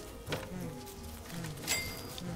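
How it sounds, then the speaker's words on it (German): Bees in the Don't Starve video game buzz softly and steadily nearby, with small wavering swells and no talk. "Und die nervigen Bienen."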